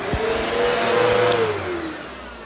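A Eureka Clean Living 3281 vacuum cleaner, tested after cleaning, runs nearby with a loud, steady motor whine and airflow roar, its pitch dipping slightly toward the end, with no voices.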